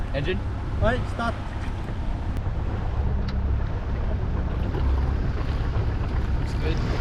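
A sailboat's engine runs after starting, a steady low rumble under heavy wind buffeting on the microphone and the wash of open water, with voices speaking briefly over it.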